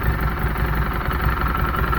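A 2016 Harley-Davidson Street 500 motorcycle engine idles steadily after warming up, a loud, continuous low rumble with an even pulsing throb and no voices.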